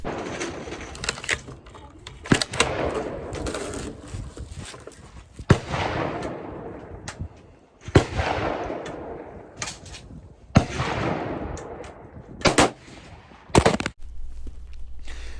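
Savage 110 Tactical bolt-action rifle with a muzzle brake fires several loud, sharp shots spaced a few seconds apart outdoors, each crack followed by a long decaying echo.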